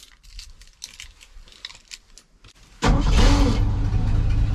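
After a few seconds of faint clicks and cranking noises, a 1979 Ford F150 Ranger with a four-speed manual and four-wheel drive catches and starts, jumping into a loud, steady running engine nearby.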